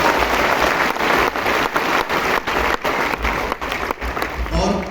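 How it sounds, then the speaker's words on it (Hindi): Loud, sustained applause fills the room at a coaching talk on SSC exam strategy, a dense crowd clapping steadily for several seconds with brief dips in intensity. "तो एक बार जोरदार तालियां मेरे मोहित"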